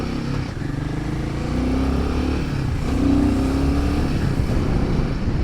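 Royal Enfield Himalayan 450 motorcycle riding at steady speed, a continuous low engine drone with a slight rise in pitch, heard close from the rider's position with no talking.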